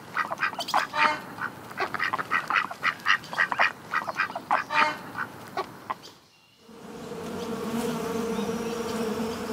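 A bee sets up a steady, continuous droning buzz, close and even. It comes after several seconds of rapid, pulsing fowl-like calls.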